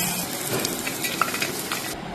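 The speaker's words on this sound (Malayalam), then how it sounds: "എന്നിട്ടൊന്ന് ഫ്രൈ ചെയ്തെടുക്കാം" Dried shrimp and chili fry in a pan, a close, continuous hiss of hot oil with a few light scrapes and clinks from stirring.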